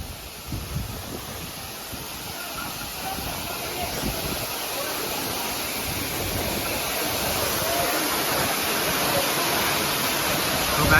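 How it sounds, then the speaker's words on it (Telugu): A steady, broadband rush of falling water at Khira waterfall near Mancherial, loud and unbroken, slowly swelling slightly toward the end. "చూడండి guys water falls, ఖీరా water falls."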